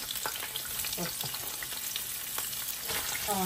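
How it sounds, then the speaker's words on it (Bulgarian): Onions sizzling in a frying pan where chicken drumsticks were just browned, a constant crackling hiss with occasional stirring scrapes, close and steady with no talk. "Сега слагам лука"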